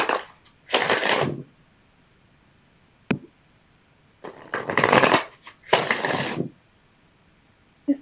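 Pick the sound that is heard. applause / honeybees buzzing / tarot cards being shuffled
tarot cards being shuffled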